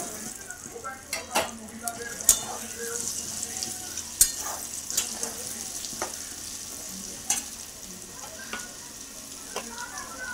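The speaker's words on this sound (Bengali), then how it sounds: "মশলাটা বেশি ভাজবো না। এরপর দিয়ে দেবো আমগুলো।" Spiced oil sizzles steadily in a pan for mango pickle, the crackle close and even, with sharp spoon clicks and scrapes against the pan at irregular intervals.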